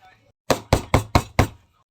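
Five firm knocks on a door in quick, even succession, loud and close, after a short pause of near silence.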